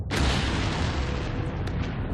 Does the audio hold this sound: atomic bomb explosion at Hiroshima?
yes